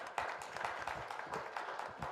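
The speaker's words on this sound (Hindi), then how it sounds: "तो जोरदार तालियां।" Clapping from a stage-event audience comes as a short burst of dense, quick claps at moderate level, lasting about two seconds.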